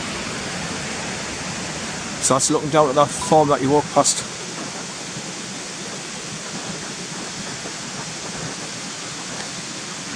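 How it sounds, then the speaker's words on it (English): Steady broadband roar of water pouring down Cotter Force waterfall, constant and close, with someone briefly speaking over it partway through. "You can hear the roar of the water as it's coming down"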